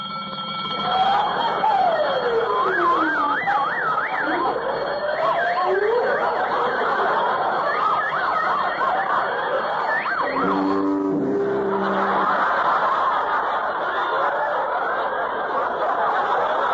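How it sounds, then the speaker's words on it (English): A radio-show sound effect of a vault alarm gives a long, steady wail of buzzing and warbling tones and keeps up without a break. A brief clatter breaks in partway through. "I forgot to turn off the alarm."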